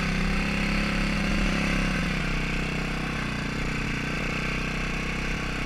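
A two-wheel-drive ATV engine runs steadily and loud up close on a slick, snowy trail, a continuous mid-pitched drone with slight throttle variation and no talk over it.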